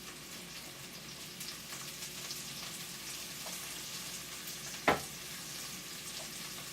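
Food seasoned with salt and pepper sautés in a pan, a continuous even sizzle with one sharp clack of a utensil near the end, close and fairly soft.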